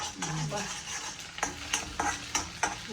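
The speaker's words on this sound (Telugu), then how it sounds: "ఇలా వేపాలి మనము." Food fries in a pan with a steady sizzle while a spoon scrapes and stirs it in repeated sharp strokes.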